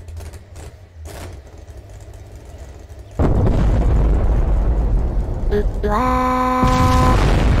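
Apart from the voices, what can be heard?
nuclear bomb explosion in Garry's Mod video game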